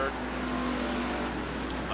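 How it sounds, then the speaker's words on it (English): Stock race cars circling Rockford Speedway in a 1996 short-track race make a steady, continuous engine drone. A race announcer talks over the roar. "Challenge back there with the 511 car, Tom Lundberg."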